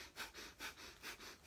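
Rapid, rhythmic breath-of-fire breathing through the nose, with about seven quick, even sniff-like pulses in under two seconds, close and quiet.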